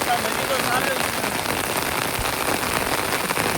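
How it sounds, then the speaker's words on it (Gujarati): Steady rain falls and patters on surfaces outdoors, a dense, continuous hiss of drops that stays loud and even throughout. "વરસાદ હજી તો ચાલુ જ છે."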